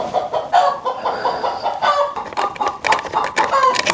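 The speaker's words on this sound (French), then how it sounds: "on a une poule dans le garage" A pet hen kept in a garage clucks continuously up close, loud rhythmic bursts and drawn-out throaty calls following one another without pause.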